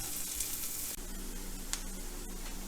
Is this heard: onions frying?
yes